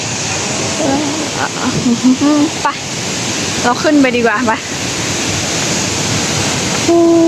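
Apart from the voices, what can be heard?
waterfall in Thailand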